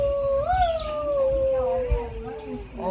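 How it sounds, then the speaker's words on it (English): An Arctic fox at the zoo gives a long, clear, wavering howl, loud and close, sliding up then gently down, with a second voice joining near the end and low rumbling from the surroundings. "Do Arctic foxes howl?"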